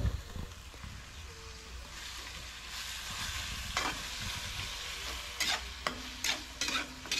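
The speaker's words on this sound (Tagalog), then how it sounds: "Tapos halo-halo ulit." Pancit noodles frying and being stirred in a pan for breakfast, a steady close sizzle with scraping strokes of the utensil, growing busier with sharp clinks and bursts toward the end.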